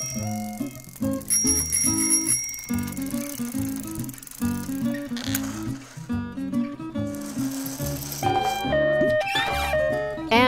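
A bicycle bell rings several times in bright, repeated dings over an upbeat children's learning song.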